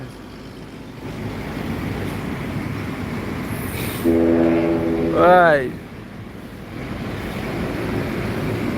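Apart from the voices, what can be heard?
ship horn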